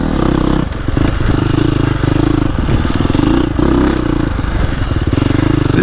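A 2025 KTM 350XCF dirt bike engine chugs loudly and steadily in second gear on a woods loop, a close, continuous low throb with slight clatter and small pulses of throttle.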